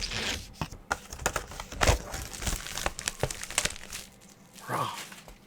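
Plastic packaging crinkles and crushes during the unpacking of a Mosiso 15-inch MacBook Pro case, a series of close, irregular crackles and rustling bursts with brief pauses in between.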